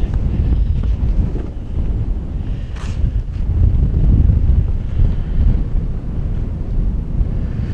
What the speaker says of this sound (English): As you can see by how bloody windy it is.